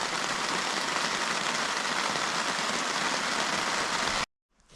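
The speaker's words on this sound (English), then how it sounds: "hopefully they made it to their abode before they got drenched with rain" Steady rain falls on a campsite, a dense continuous hiss of drops pattering on surfaces that cuts off abruptly near the end.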